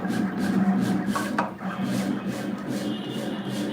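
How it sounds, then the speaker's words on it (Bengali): A cutting machine slicing sticker designs, a close rubbing, rasping drone with rhythmic passes of the blade and a brief scrape midway, steady and mechanical with no talk. "এটা হচ্ছে কাটিং মেশিন আর এটার মাধ্যমে এখানে যে ডিজাইনগুলো আছে সেগুলো কাটিং চলছে"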